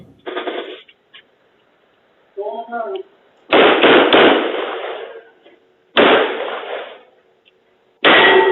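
Gunfire during a police shootout at a Smile Direct Club facility in Nashville, with shots exchanged through doors. Several loud, harsh bursts ring out with long echoing tails, separated by near silence.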